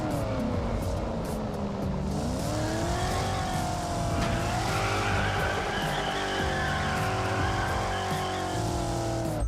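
An old British sports car with a big V8 in the Test Drive Unlimited Solar Crown racing game roars loudly and continuously, engine pitch dipping and rising as tires squeal through a long skid.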